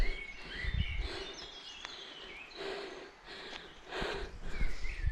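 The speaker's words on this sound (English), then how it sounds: "There's so many birds, in fact all I can hear is the river down below in the valley and the birds and the trees" Birds chirp and sing in scattered short calls beside a river in a valley along a trail, faint and distant over a soft, steady outdoor wash.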